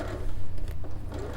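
A sewing machine stitches a quarter-inch seam with a steady, close motor hum and rapid needle chatter running continuously through the short stretch.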